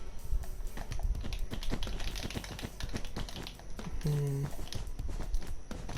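Computer clicking while building in Minecraft, a busy irregular clatter of close mouse and key clicks, broken by a short tonal in-game sound partway through, with no clear speech.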